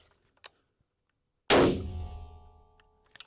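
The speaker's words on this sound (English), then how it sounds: "We got a round stuck in the chamber." A PWS UXR rifle fires one loud, sharp shot that rings and decays slowly, with faint mechanical clicks of the action just before and after.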